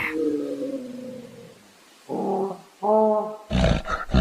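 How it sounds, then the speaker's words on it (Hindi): A cartoon black monkey roars loudly in a series of harsh, growling bursts, the last one rough and broadband, loud and close with no talk over it. "तभी वह काला बंदर जोर जोर से चिंघाड़ने लगता है।"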